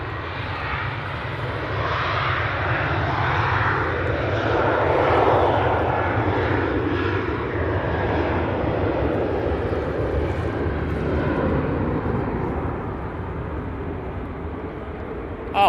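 An airliner departing Manchester Airport on the Alicante flight makes a loud, sustained jet engine roar that builds, peaks and slowly eases over several seconds, close and heard without talk.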